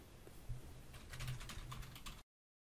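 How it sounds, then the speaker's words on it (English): Keys on a computer keyboard are pressed in a quick run of light, faint clicks, including taps of the tab key while a resume is typed in a word processor, with a steady low background hum. "Type objective. Tab key. Another tab key."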